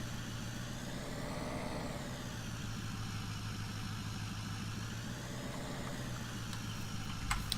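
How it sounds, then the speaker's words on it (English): Truck engine in the Farming Simulator 19 video game, a steady close idling rumble with a slow rise and fall in pitch and a few faint clicks near the end, with no talk. "Great sounding engine, great driving."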